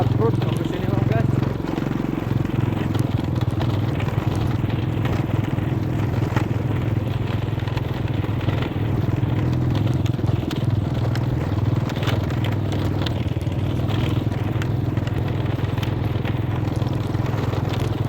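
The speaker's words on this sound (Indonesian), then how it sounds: "Harus pakai motor off-road ke sini loh guys" An off-road motorcycle rumbles steadily along a rocky, unpaved village road, its low engine drone continuous and close with scraping and crunching from the stones, while a rider talks over it.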